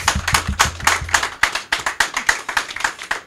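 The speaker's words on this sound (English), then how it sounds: "And I think they deserve a round of applause." Sparse, distinct hand claps from a small audience at a standards bureau anniversary awards ceremony, individual slaps audible rather than a dense roar, fairly close and moderate in volume.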